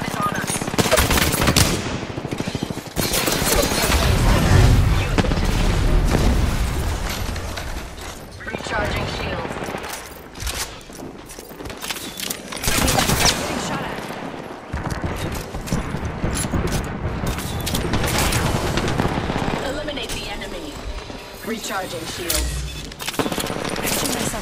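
Dense, near gunfire and blasts from an Apex Legends firefight, with bursts of automatic fire, mechanical clatter and booming hits running almost without pause, and game voice lines mixed in.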